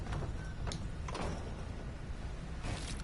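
In the Fortnite video game, a door is placed in a quiet, brief mechanical slide-and-thunk, with a couple of soft clicks around it and no talking.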